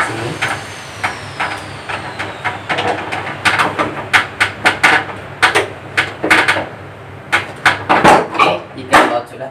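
A bolt is fastened back onto the cover of a Sharp air conditioner: a run of sharp, close clicks and taps, sparse at first and then coming faster and louder, over a low background hum.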